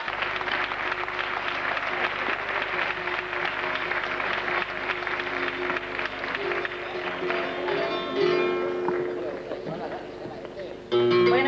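Sustained dense applause from a festival audience for a flamenco singer, loud and continuous throughout, rising briefly near the end with some voices mixed in.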